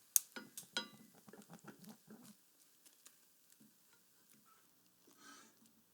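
Eggs cooking in a pan for an omelette give a soft sizzle with a few light scrapes and taps early on, then settle into a faint, quiet hiss.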